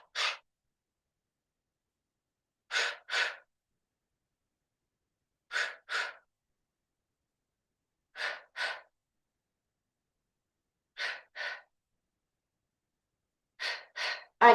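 Paired exhalations during a Pilates breathing exercise, five or six double breaths spaced evenly every few seconds with silence between, close and clear.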